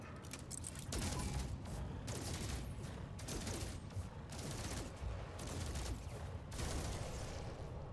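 Rapid bursts of bolt caster fire in the video game No Man's Sky, dense strings of sharp shots in several volleys with short pauses between them, loud and close.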